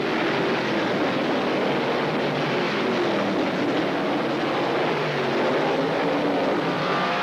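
Race cars circling an oval track during a 100-lap race make a steady, loud, continuous roar that holds evenly from start to finish with no voices.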